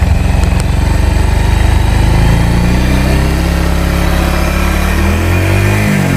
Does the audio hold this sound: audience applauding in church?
no